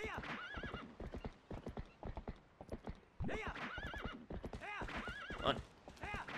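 Horse galloping in Zelda: Twilight Princess, a steady run of rapid hoof clip-clops with a couple of loud whinnies near the end, close and prominent, with brief faint voice underneath.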